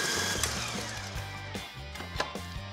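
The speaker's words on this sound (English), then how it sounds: "Whipping, I'm going to go a little more faster now." Electric mixer whipping egg whites with sugar in a home kitchen, a steady whirring hum with a rhythmic pulsing motor drone and small clicks of beaters against the bowl.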